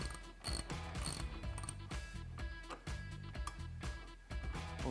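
A ratchet loosens an 18mm bolt on the steering stabilizer of a 2018-2021 Jeep JL or Gladiator, clicking in quick repeated bursts of close, crisp metallic pawl clicks with short pauses between strokes.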